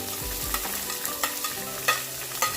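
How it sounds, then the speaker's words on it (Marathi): Onion, capsicum and carrot stir-fried over a high flame give off a bright, continuous sizzle, punctuated by sharp spatula scrapes and clacks against the pan every half second or so, close and without talk. "आता या सगळ्या भाज्या आपल्याला 5 मिनिटं हाय फ्लेमवर परतवून घ्यायच्या आहे."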